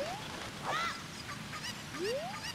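Cucco chicken squawking in Zelda Ocarina of Time Randomizer, a few short rising squawks and clucks over a steady game background hum.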